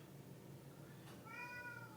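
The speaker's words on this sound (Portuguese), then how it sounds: "Isso foi um gato." A cat gives a single clear meow, fairly faint and somewhat distant, rising out of a low steady room hum near the end.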